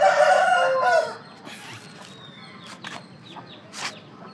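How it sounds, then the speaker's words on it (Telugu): A full-size, heavy rooster crows once, loud and close, for about a second, followed by quieter farmyard sounds and faint chirps in the background. "ఇదిగోండి, చూసుకోండి కోడిపుంజు"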